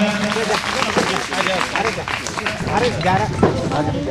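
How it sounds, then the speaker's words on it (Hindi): Loud, steady applause from a school audience greeting a student award winner at a prize ceremony, with crowd chatter and voices mixed into the clapping throughout. "जोरदार तालियां"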